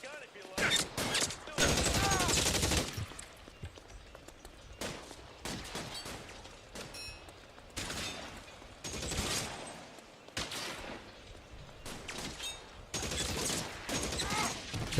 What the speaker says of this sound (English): I love the Thompson in this game. Tommy gun.